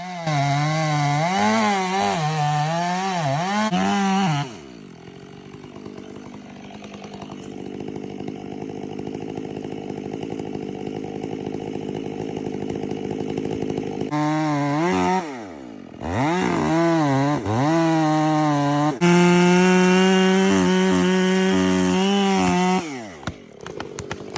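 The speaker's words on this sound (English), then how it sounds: "workers use a chainsaw with a long bar to trim large branches" A long-bar chainsaw roars loudly through large tree branches, its pitch dropping and rising with each cut, pausing briefly between bursts of sawing.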